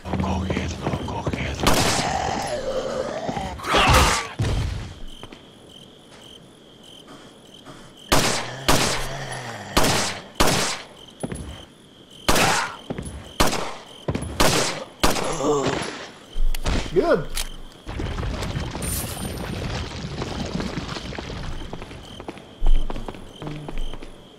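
Handgun fire in the video game Resident Evil 4, a string of sharp, loud single shots spaced irregularly across the stretch, with ambient game sounds and a voice talking in the gaps.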